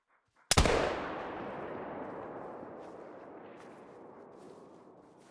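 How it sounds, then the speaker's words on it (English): A single musket shot fired at a whitetail deer just over 100 meters away in theHunter: Call of the Wild, a loud sharp crack followed by a long rolling echo that slowly fades. "Let's see if I can make this shot here."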